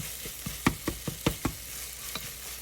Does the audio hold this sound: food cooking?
yes